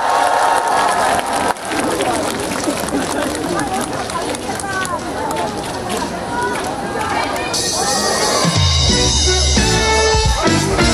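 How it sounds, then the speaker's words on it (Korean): An outdoor crowd at a concert during the Cheongsong Apple Festival applauds and cheers loudly, with a busy wash of clapping and chatter. Music kicks in near the end. "여러분 박수 부탁드립니다"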